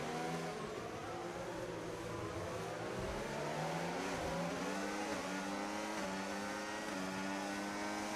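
Race cars roar down the straight in a Miami sim race, several engines layered at a steady high pitch with shifting tones as they pass, loud and continuous with no talk.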